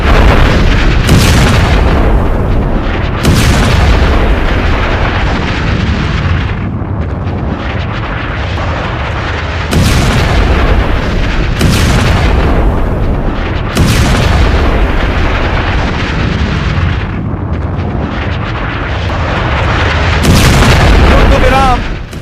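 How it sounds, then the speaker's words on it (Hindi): Loud, heavy booming blasts as a bridge in Tehran is blown up, several deep explosions recurring every few seconds over continuous rumbling roar, with no talk. "ईरान का यह ब्रिज उड़ा दिया गया था अमेरिका और इजराइल की तरफ से"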